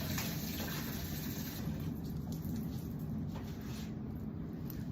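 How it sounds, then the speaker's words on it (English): A kitchen tap runs steadily as a knife is rinsed under the stream at a sink, a continuous close splashing rush of water that holds even for several seconds with no talk over it. "I need my knife here and I'm going to rinse it off"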